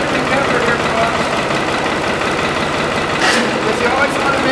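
A tractor engine idles in neutral while warming up in winter, a steady low rumble with a faint knocking pulse that holds evenly throughout, with a voice talking over it.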